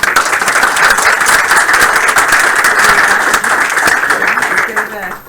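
An indoor audience at a game studio build review breaks into sustained, loud applause. The dense clapping holds steady for several seconds, then fades near the end.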